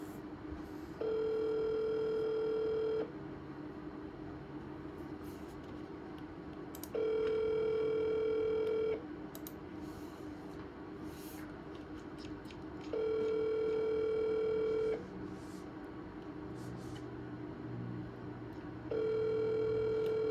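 Telephone line tone cycles on and off in regular two-second bursts, a steady electronic hum that repeats four times over continuous low background noise.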